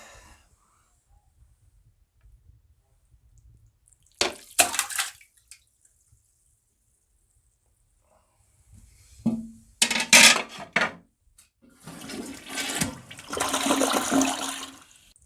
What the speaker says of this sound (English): This is nasty and it's going down the drain.